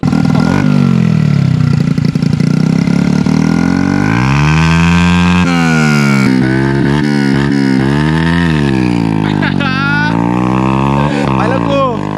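A Honda Wave 100 motorcycle fitted with an Endurance exhaust pipe, on its first start, revs loudly and repeatedly up and down in a harsh, blaring tone. The sound is close and continuous, with voices faintly beneath it.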